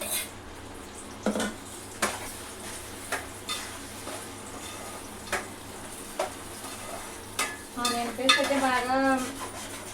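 Onion paste fries in a pan until golden, giving a soft constant sizzle under a string of sharp utensil scrapes and taps on the pan every second or so, with a brief burst of busier clattering near the end.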